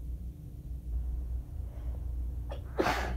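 A quiet room, then a sharp intake of breath followed by a single loud sneeze at the end, during an allergy attack.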